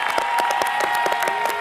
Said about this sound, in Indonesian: Tepuk tangan dong untuk mereka semuanya luar biasa.